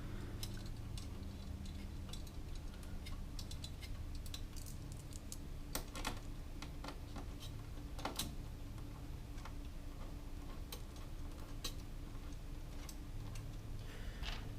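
Screws are tightened on a CPU cooler mount for a dual-socket Supermicro X8DTN+ board with Intel Xeon X5667 processors and an Arctic i11 cooler, giving soft, irregular small ticks and clicks over a quiet background hum.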